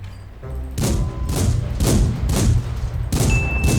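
Heavy tank cannon shots and explosions in a Thai-played tank video game, a rapid run of five loud booming blasts about half a second apart, with rumbling low-end between them.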